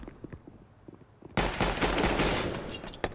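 Pistol fire in the Counter-Strike video game, a few faint pops followed by a sudden loud burst of rapid shots that continues to the end.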